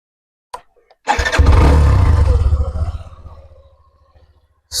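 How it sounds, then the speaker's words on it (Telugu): A Hero Xtreme 125R motorcycle engine starts after a click and a short crank, then roars loudly and close. The revving holds steady, then settles and fades toward idle. "మనకి ఒకసారి ఇంజన్ ఆన్ చేసి చూద్దాం"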